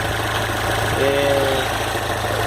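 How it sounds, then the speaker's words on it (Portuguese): A rebuilt Chevrolet Chevette engine with a freshly redone wiring harness idles at around 800 RPM, giving a steady, even mechanical hum with a faint rhythmic pulse that continues unbroken throughout. "Marcha lenta aí entre 800 RPM."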